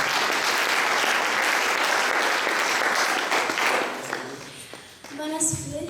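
A church congregation applauds loudly and steadily at a Sifa Night gathering in Kisii, the clapping dense and sustained before fading near the end as a voice begins speaking.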